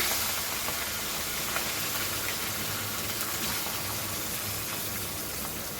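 Chopped onion hits a hot pan of oil with asafoetida for a Goan cauliflower bhaji, giving a steady, dense, hissing sizzle that stays even and fairly loud throughout, with no talking.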